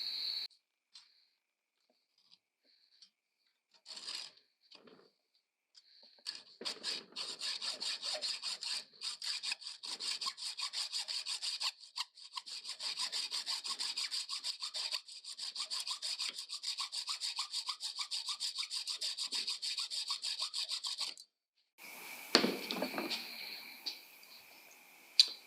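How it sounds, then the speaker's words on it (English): A hand saw cuts through a metal bolt to trim it to length, making long runs of fast, rhythmic rasping strokes with short pauses between them. The scraping is close and steady, with a harsher scrape near the end. "If you're cutting down, say, this end of the bolt, you're putting a lot of pressure down here."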